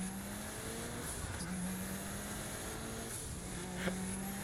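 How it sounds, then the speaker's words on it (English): Car engine in Saints Row The Third, a steady high whine with a continuous broadband roar held at a constant level throughout, no voices over it. "Why does the car sound like it's going like 100 miles per hour?"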